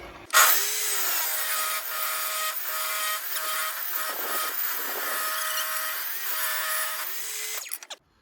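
Table saw ripping a wooden furring strip for flat-roof carpentry, a steady close whine with a tonal hum that runs nearly continuously for about seven seconds before the blade winds down at the end.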